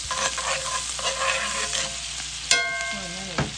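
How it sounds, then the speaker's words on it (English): Garlic frying in a pan beside grilled kabobs and steaks gives a steady, close sizzle, stirred now and then with a few sharp metallic clinks and scrapes near the end. "We're adding some garlic up in here."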